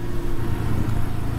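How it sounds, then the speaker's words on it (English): A Yamaha XJ550 Scrambler, a 6-speed motorcycle, cruising on the highway at high RPM, its engine giving a steady low drone mixed with wind rush, loud and continuous throughout. "the RPMs are pretty high on the highway, but it does it no problem"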